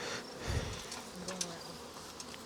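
Honey bees buzz around an opened hive during honey pulling, a dense droning hum close by with a few sharper buzzes passing near.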